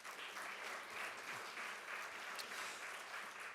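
Sustained audience applause fills an award ceremony hall, a steady dense wash of many hands clapping at even volume from start to finish.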